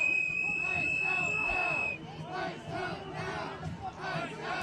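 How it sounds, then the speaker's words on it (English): A protest crowd on the ground chants loudly at local and state police, rhythmic massed voices with a high sustained tone ringing over the start, then the chant breaking into babble. "Hear those chants of shame from the crowd, again, directed at the local and state police"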